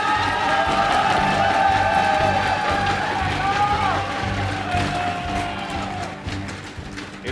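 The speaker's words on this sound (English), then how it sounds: "Give a cheer for Jaedong." A crowd at a StarCraft 2 match cheers for the player Jaedong. The cheering is loud at first, mixed with clapping and shouts, then gradually dies down, and a voice can be heard under the crowd.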